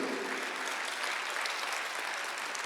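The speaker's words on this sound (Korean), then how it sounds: "박수 하나 돌리세요." A church congregation at a Sunday worship service breaks into a short burst of applause, a dense even clatter of many hands at moderate volume, heard briefly and on its own.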